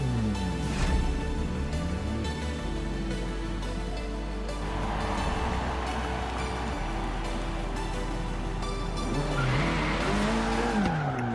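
An Abarth 695 Biposto racing in Forza Horizon 3, its engine droning and revving steadily with pitch sweeps through gear changes, plus bursts of tire squeal and skidding as it slides through corners.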